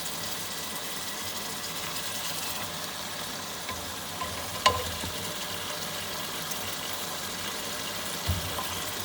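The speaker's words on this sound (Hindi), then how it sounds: "और इसको हम लोग ऑयल डालकर मज़ीद 10 से 15 मिनट के लिए अच्छे से भूनेंगे।" Mutton and green chickpea curry frying in oil in a pot, giving a steady close sizzle with an occasional soft knock of a spoon and no talking.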